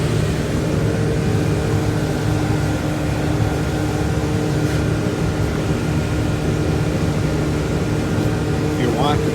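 A Donaldson Torit Vibra-Shake VS-1500 dust collector with a 5-HP motor runs at close range, a loud, constant blower roar with steady hum tones and no change in level throughout.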